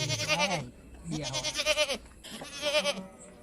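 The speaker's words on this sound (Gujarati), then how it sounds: "બકરાનો અવાજ આવે હા બકરા લાગે છે" Goats on a farm bleat three times in close succession, each a wavering, nasal cry heard fairly near and clear, with only faint background noise between calls.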